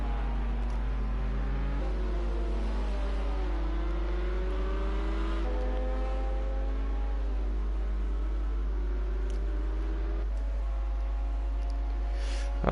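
LMP2 prototype race cars lapping Circuit of the Americas in the video game Project Cars on PS4, engines droning and shifting pitch steadily throughout, several cars overlapping at moderate loudness with no voices.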